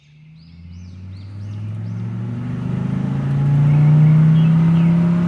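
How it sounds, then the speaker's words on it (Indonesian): In an Indonesian animated cartoon, the village head's car drives past: an engine rumble swells steadily and rises in pitch, after a few brief bird chirps at the start. "Yang lewat itu kan mobil Pak Kades ya?"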